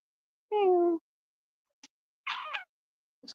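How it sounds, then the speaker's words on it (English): A cat gives a clear, close meow followed by a short pause, then a rougher, shorter second call and a brief faint sound, against an otherwise silent indoor background. "This cat loves me."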